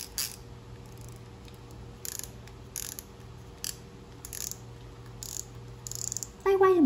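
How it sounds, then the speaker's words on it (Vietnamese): The clicker ratchet of a used Japanese spinning fishing reel, a Shimano Ultegra or Daiwa, sounds as a string of crisp, high clicking bursts at irregular intervals, close and clear, ending in a brief rising tone. "Đây là tiếng lưỡi gà của máy nha mọi người."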